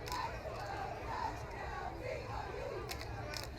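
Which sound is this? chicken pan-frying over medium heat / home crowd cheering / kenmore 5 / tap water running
home crowd cheering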